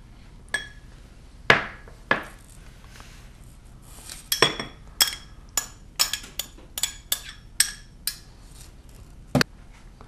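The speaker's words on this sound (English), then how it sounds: "Now I'm gonna mix the dried, thawed raspberries and blueberries together." A spoon or utensil clinks against a bowl while thawed raspberries and blueberries are mixed together, a string of close, sharp taps scattered irregularly across a quiet background.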